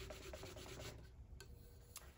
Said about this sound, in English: Just lightly sanding it.